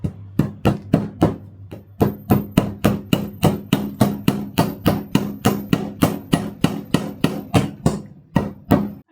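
Steel hammer, made from melted IKEA stainless steel, driving a nail into a piece of wood with loud, close, evenly spaced strikes repeated about two dozen times.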